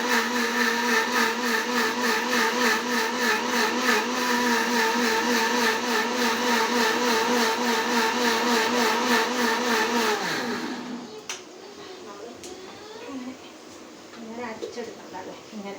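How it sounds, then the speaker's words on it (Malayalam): A kitchen mixer grinder whirs as it grinds small onions into a paste, a loud, steady motor drone that runs for about ten seconds, then winds down to quieter rattling and handling noise. "അതൊന്ന് മിക്സി അരച്ചെടുക്കാം."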